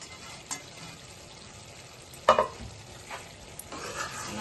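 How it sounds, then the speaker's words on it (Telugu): A spoon stirs prawn and chana dal curry with garam masala and coriander in a pan, giving a low simmering hiss with a few scraping knocks, one louder clatter midway; no voices. "కలుపుకొని 2 నిమిషాలు ఉడకనిద్దాం."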